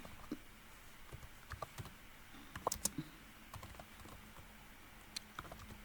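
Sparse, quiet keystrokes on a computer keyboard, irregular clicks scattered over a faint background hum, with no speech.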